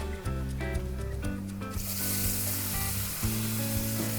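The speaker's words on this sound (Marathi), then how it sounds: "मसाला टाकून झाल्यावर लगेच आपण हे मासे टाकतोय" Small fresh fish frying in masala with a little turmeric, a steady sizzle that grows stronger as the fish go in, heard up close in a village kitchen during the Konkan monsoon, with no talking.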